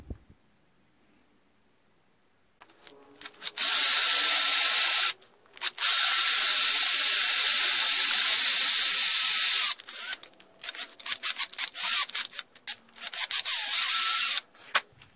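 A larger drill bit boring out a broken bolt, heard as a loud, steady high-pitched grinding that runs in long bursts with a brief pause, then breaks into short choppy pulses as the drill is started and stopped.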